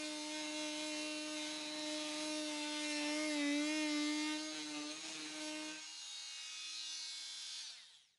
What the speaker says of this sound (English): Work the glaze away from the frame using the 452 blade to simultaneously cut and pry the glazing.